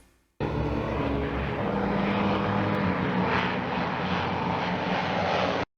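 A propeller airplane flies overhead in the 1954 film Them!, its steady, loud engine drone starting abruptly and holding constant before cutting off.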